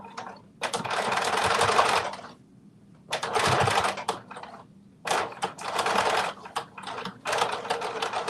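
A sewing machine runs a long basting stitch across a fabric fold line, whirring in three sustained bursts separated by short pauses, close and steady with no talk.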